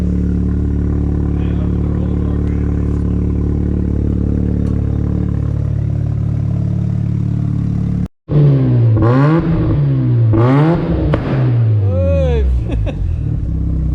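Mazda RX-7 FD with a newly installed turbo rotary engine, idling steadily, then after a brief cut it revs hard in repeated rising and falling sweeps, loud and close, with people talking.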